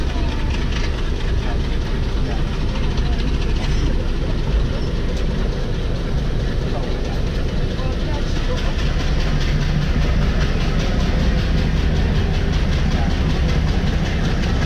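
A train from Galle to Colombo, Sri Lanka, rumbles along steadily with rhythmic clattering and a constant low engine drone, loud and close throughout.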